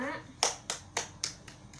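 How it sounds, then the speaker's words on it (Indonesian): In a school science classroom, students clap for a presenting group in five sharp, evenly spaced claps about a quarter-second apart, following a brief voice at the start. "beri tepuk tangan untuk kelompok 5"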